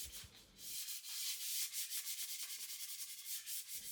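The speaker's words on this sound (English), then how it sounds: "I took a sanding sponge, 220 sanding sponge, to the mirror and started sanding back this rose design." Rapid back-and-forth scratchy rubbing of a 220-grit sanding sponge on a mirror, steady and close, with rhythmic strokes.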